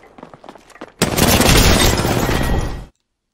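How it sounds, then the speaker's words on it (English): Sustained automatic gunfire from Apex Legends erupts loud and close for about two seconds, after a few faint earlier shots and taps, then cuts off abruptly. "Getting shot at."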